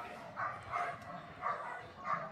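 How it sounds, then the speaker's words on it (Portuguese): A five-year-old merle bull-breed dog at a kennel giving four muffled, evenly spaced barks at moderate distance over a low background hum. "Cachorro bem bacana."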